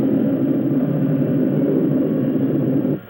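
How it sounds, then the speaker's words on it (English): Spaceship engines start up in a 1960 science-fiction film, a loud, dense, low rumble that holds steady for about three seconds before cutting off abruptly. "Start the engines and get ready for a vertical landing."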